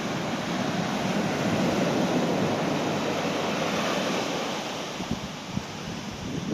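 Sea waves washing steadily onto a white sand beach at Phuket at high tide, a continuous close surf roar with wind, easing slightly near the end, no talk.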